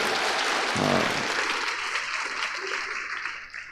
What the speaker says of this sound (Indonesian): yang setuju ayo tepuk tangan